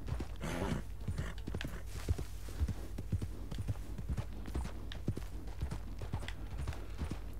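Horse hooves clip-clop at a steady walking rhythm in the video game Red Dead Redemption 2, close and distinct over a low rumbling background, with no talking.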